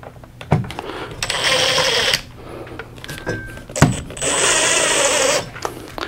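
A power drill drives a screw into a wall while wall-mounting equipment on keyhole slots, with two sustained whirring bursts broken by a short pause and sharp clicks, loud and close, with no talk.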